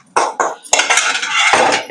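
Hot tempering is poured into ridge gourd dal with a metal clink and a brief sizzle, followed by a few close clatters of a pot and utensils.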